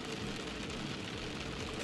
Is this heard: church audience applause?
no